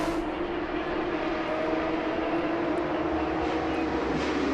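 A steady, loud engine drone holds throughout with a strong low hum and broad roar, like a Porsche or Ferrari race car heard from onboard at Road Atlanta, no talking.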